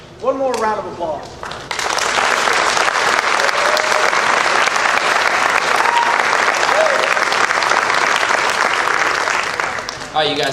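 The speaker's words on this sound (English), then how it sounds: "One more round of applause." A voice speaks briefly at the start, then a crowd at a school band concert and awards ceremony breaks into loud, sustained applause that carries on evenly for several seconds before fading slightly.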